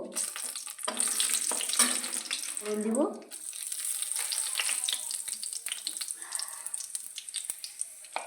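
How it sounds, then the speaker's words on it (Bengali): Dried red chillies hit hot oil as tempering over reddened fried potatoes, giving a steady close sizzle with bursts of crackling and a few clattering stirs throughout. "এবার আমি শুকনো লঙ্কা ফোড়ন দিব"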